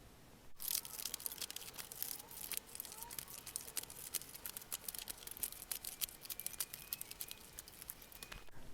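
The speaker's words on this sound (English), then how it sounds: "now I am going to grab my scallop scissors and we're going to go ahead and cut it" Scallop-edged scissors snip through paper during a paper-craft flower project, giving a close, quiet run of rapid crisp cuts and rustles that continue steadily to the end.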